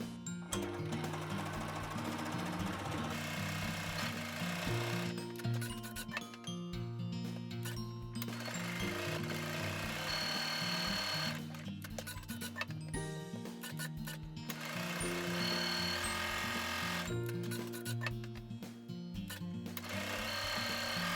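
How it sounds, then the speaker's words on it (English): A sewing machine quilts fabric bag panels in quick rattling bursts, stitching in steady runs broken by short pauses, close and clear with no talk. "And then I machine quilt my panels just like this."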